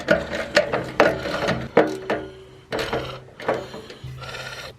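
Screws on the fuel pump of a BMW R1100GS motorcycle are tightened by hand, giving a quick series of close ratcheting clicks and metallic knocks in short bursts.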